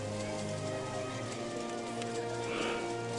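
Steady, dense patter of rain from RollerCoaster Tycoon 2, a continuous wash of drops falling on surfaces with a faint game tone underneath, with no talking.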